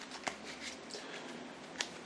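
A deck of Mansions of Madness board game cards being given a quick shuffle, soft riffling and sliding with two sharper card snaps, close and fairly quiet.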